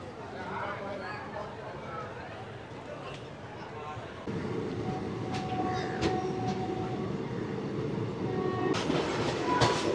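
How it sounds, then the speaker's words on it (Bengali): A train pulls out of Rampurhat station with a steady rumble and clatter of wheels, rising louder partway through, with sharp clanks and squeals over a busy background and people talking. "আমাদের ট্রেন রামপুরহাট স্টেশন থেকে ছেড়ে বেরিয়ে যাচ্ছে"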